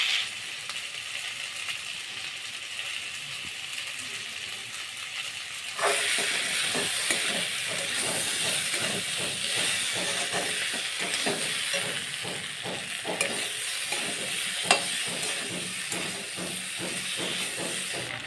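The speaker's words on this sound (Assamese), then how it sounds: "এইখিনি মছলা দিয়াৰ পিছত ভালকৈ ভাজি ল'লোঁ" Spices with meat masala and cumin frying in a pan for a catfish and potato curry, a soft hiss at first that jumps to a louder, steady sizzle with repeated stirring scrapes and clicks.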